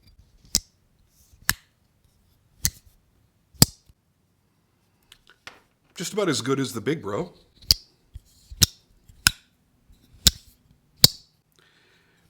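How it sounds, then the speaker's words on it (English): A Jack Wolf Little Bro Jack pocket knife has its blade snapped open and shut about ten times, each a crisp, isolated metallic click spaced roughly a second apart. Someone speaks briefly in the middle. "The walk and talk sounds great."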